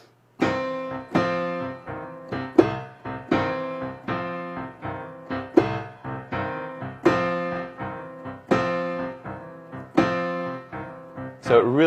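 A piano plays a two-hand blues shuffle pattern: steady, bouncing chords struck in a loping swing rhythm, clear and close, with no voice over it.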